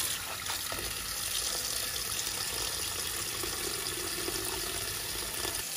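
Spinach leaves washed under a running kitchen faucet, a steady close splashing and rushing of water into the sink with faint handling sounds, no voices.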